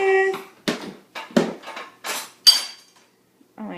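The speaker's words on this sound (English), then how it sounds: "Vance, are you unloading the dishes" Dishes and cutlery being unloaded from a home dishwasher: a series of close, sharp clinks and clatters in irregular bursts, with short pauses between and a final soft rattle.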